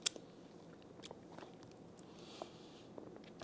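Fruit being bitten and chewed up close during a quick taste test before a gym session, a few crisp bites followed by quiet steady chewing with no talking.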